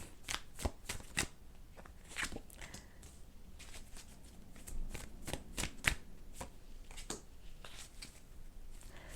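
Tarot cards are shuffled by hand in a quiet room, a string of crisp riffling bursts and soft slaps coming at an uneven pace, close up and moderately loud, with no voice heard.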